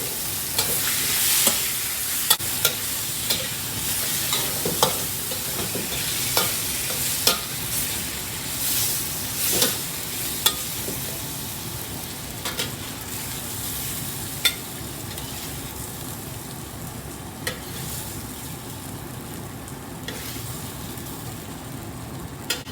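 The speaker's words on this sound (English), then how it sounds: "put the bacon in." Bacon frying in a pan over medium heat, a steady dense sizzle with scattered sharp pops and crackles throughout, a kitchen fan running underneath, no voices.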